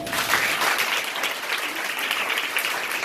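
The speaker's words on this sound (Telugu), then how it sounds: "చప్పట్లు కొట్టండి." Audience applause at a Telugu Christian sermon gathering, a steady dense clapping from a crowd that fills the whole stretch at even loudness, with no talk over it.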